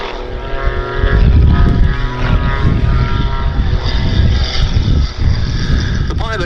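Propeller aircraft at the Duxford summer air show climbing away, flown by pilot Rich Goodwin, a loud, close, sustained engine drone with a rough low rumble and shifting pitch, no voices heard.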